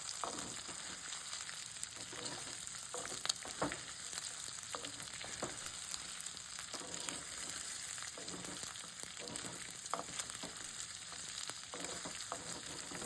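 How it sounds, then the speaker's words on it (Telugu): Chicken pieces coated in ginger garlic paste fry in a pan over a medium flame, giving a steady, close, continuous sizzle with occasional stirring scrapes and no talking. "స్టవ్ని మీడియం ఫ్లేమ్లో పెట్టుకొని 2 నిమిషాలు బాగా వేయించుకోవాలి"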